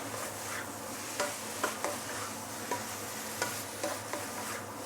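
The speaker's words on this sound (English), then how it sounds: "The last few stir." Fried noodles with roast pork being stirred in a pan, a soft steady sizzle broken by several evenly spaced scraping strokes of the utensil, fairly quiet and close.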